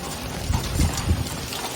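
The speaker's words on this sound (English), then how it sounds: "We have hail falling here." Hail falling outdoors during a November storm, a steady dense patter of ice pellets striking the ground and a rug, with a few louder impacts standing out from the continuous wash.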